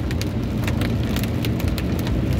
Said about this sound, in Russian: Смотри, офигеть, да, дождь.